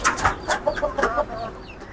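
Hill chickens, a parent rooster and hen, cluck in a quick run of sharp, close calls with short gaps, loud at first and fading slightly toward the end.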